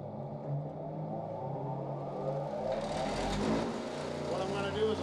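A polishing wheel motor runs in a steady, low hum while a tablet press punch and die are prepared for polishing; someone talks over the motor throughout.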